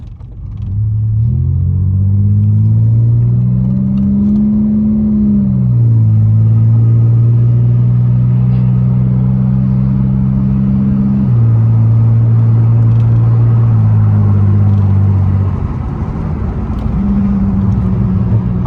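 A muffler-deleted Pontiac Grand Prix GT drives past up close, its loud exhaust droning and rising as the engine revs through gear changes and then settles back, sustained and dominant with no talking.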